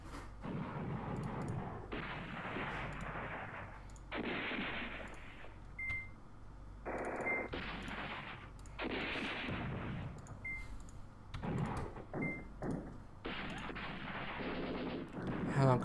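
Blocks of game gunfire and artillery in the wargame Command Ops 2 come in rapid repeated bursts of varying length, broken by short gaps, with small interface beeps and a low steady hum under them.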